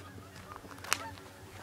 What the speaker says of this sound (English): But all the geese.